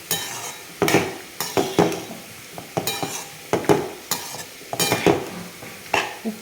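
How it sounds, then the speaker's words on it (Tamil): Tomatoes being sautéed for pickle in a pan give a soft sizzle under repeated scraping and stirring strokes of a utensil, close by and irregularly paced. "நல்லா இதை வதக்கிடுவோம்."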